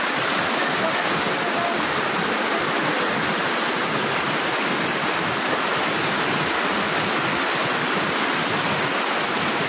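Water rushes at Panchalingeswar temple in Balasore, Odisha, a steady, loud, close roar that fills the whole stretch without a break.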